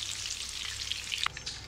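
Gola kebabs fry in hot oil with a continuous bright sizzle and a few tiny pops near the end, close and fairly quiet, without speech.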